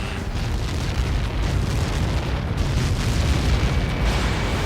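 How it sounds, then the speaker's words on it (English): A massive projectile impact explosion in the combat flight game Ace Combat 7, a sustained deep rumbling roar that fills the whole stretch at steady loudness without letup. "How many got caught in that explosion?"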